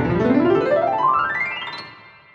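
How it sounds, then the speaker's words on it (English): Classical grand piano played with a fast rising glissando sweeping from the low notes to the high ones, close and resonant, fading as it rings out. "If you're sitting at a piano playing it yourself, you're going to hear all the bass notes on the left side and all the high notes on the right side"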